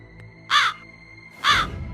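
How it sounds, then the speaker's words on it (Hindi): An injured crow perched at a window gives two loud, harsh caws about a second apart, close by, with no other sounds. "एक जख्मी कौवा उसके झरोखे पर आकर बैठ जाता है और काव काव करने लगता है।"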